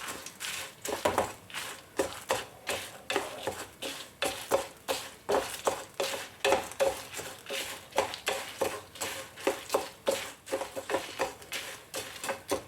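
Spatula stirring urad dal and chana dal roasting in a pan, a steady rhythmic scraping and rattling of lentils, regular strokes roughly twice a second, close and clear with no talk.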